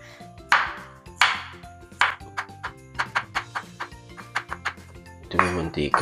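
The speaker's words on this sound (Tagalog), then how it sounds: "Hindi pwede mag-ingay pero ang ingay ng chopping board natin." A knife chops on a chopping board in a home kitchen, about a dozen sharp, resonant strikes in an uneven rhythm, loud and close, with a clattering burst near the end.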